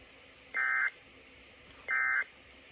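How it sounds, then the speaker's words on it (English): Emergency Alert System end-of-message tones from a required monthly test for the Seattle and Central Puget Sound area: two short, loud electronic buzzy bursts about a second apart, sitting alone over faint background hiss. "The following tones will conclude this test."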